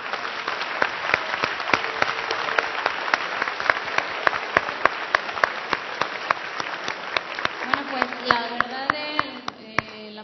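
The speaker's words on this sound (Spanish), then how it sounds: "un aplauso para ellos" A crowd at a hackathon awards ceremony gives a long, steady round of applause, dense clapping with occasional sharp individual claps standing out, and a voice begins speaking near the end.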